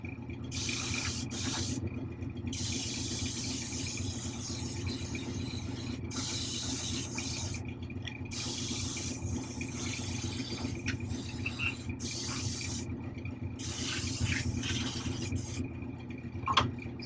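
Spray can laying a wet primer coat on a quarter-scale Hellboy figure: a loud, sustained airy hiss in long bursts separated by short pauses, with no talking.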